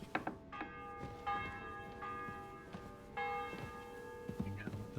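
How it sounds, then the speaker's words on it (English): Church bell tolling in a video game, several spaced resonant strikes with long ringing overtones, clear and fairly loud over a low game ambience. "The bell's ringing for Hans the 5th time."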